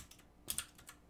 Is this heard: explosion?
no